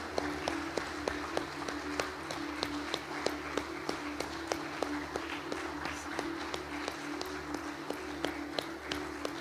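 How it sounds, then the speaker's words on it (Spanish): A church congregation claps in worship, a regular rhythmic beat of hand claps repeating steadily over a low continuous background hum, moderately close. "Dale un aplauso de adoración a nuestro Señor"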